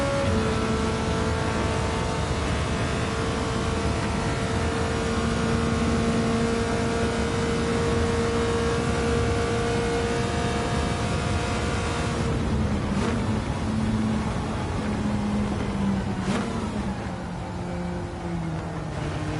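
The engine of a Ferrari Mondial in Gran Turismo 7 drones steadily and loudly throughout, its pitch rising and falling gently through gear changes.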